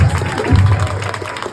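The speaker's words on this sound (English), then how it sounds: "Can we get a round of applause for Rassica?" Brief burst of applause from a convention panel audience, a short patter of clapping under a moment of room noise, close and moderately loud.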